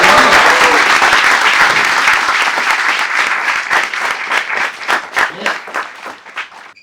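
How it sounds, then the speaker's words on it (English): A crowd in a college hall at FMS Delhi applauds loudly during a campus quiz event, dense clapping that gradually thins out into a few scattered, distinct claps. "Big round of applause for your"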